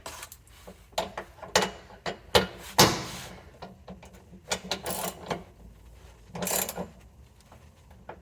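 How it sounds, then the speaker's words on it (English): A hand ratchet snugs down the bolts on a carrier bearing skid plate, giving close, irregular bursts of mechanical clicking and clattering separated by short pauses, with no voices. "I'm going to go ahead and tighten it with a"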